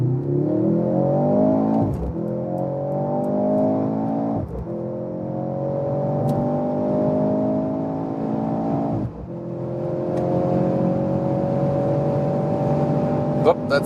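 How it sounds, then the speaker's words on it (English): A Mercedes C43 AMG accelerates hard in Sports Plus mode, its engine note climbing through several gears with sharp dips at each upshift, loud and close from inside the car. "Let's go to the Sports Plus mode and accelerate it out."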